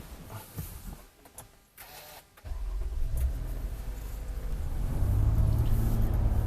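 A moving car heard from inside the cabin, with quiet rustling at first and then a steady low engine and road rumble that swells and grows louder as the vehicle gets under way.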